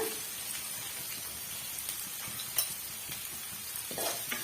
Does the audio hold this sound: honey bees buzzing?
no